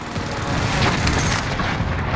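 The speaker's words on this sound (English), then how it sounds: "Allied precision airstrike incoming." Airstrike explosions in Call of Duty: Modern Warfare: dense, continuous rumbling booms and blasts, loud and close, with no voices heard.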